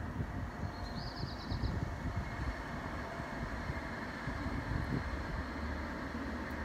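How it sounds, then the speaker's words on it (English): Trams rolling past outside, a steady low rumble of rail traffic filling the whole stretch with a faint high squeal briefly near the start, fairly distant and continuous, no talking. "You might be able to hear the trams go by where I am."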